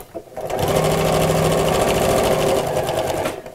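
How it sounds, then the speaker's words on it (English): A sewing machine runs steadily and loudly for about three seconds while stitching across a zip, a continuous rapid mechanical whir that starts and stops cleanly. "top stitch across here."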